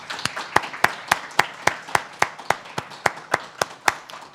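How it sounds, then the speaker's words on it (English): Audience applause for a panel at the close of a human-rights inquiry report session, heard as sparse, evenly spaced claps ringing out one by one across about four seconds, with no talk over them. "I would like to ask everybody to give a round of applause for our terrific panel."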